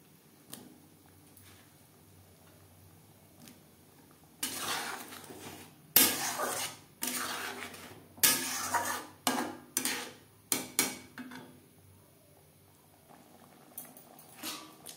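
Boiled potatoes tipped into a pan of spiced masala for a matar paneer and stirred: a quiet simmer, then a run of loud clattering spoon-and-pan scrapes and splashy stirs in uneven bursts.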